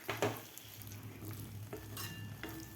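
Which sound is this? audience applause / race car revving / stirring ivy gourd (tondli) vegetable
stirring ivy gourd (tondli) vegetable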